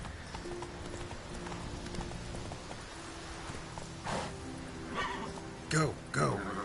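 Roach the horse in The Witcher 3 gallops with a steady, rhythmic clip-clop of hooves, and a couple of louder snorts or whinnies come near the end, while a voice speaks over it.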